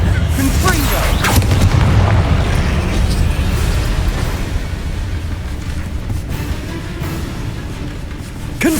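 Explosive spell blasts in the Hogwarts Legacy video game, heavy booming rumbles and bursts in a dense, loud stretch of combat noise, with voices talking over it.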